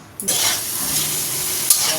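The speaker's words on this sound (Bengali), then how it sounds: "তেলটা দিয়ে আগে ডিম আর আলুটা ভেজে নেব" Oil sizzles steadily in a wok as eggs and potatoes fry, a continuous bright hiss with a soft stir or clink near the start and again toward the end.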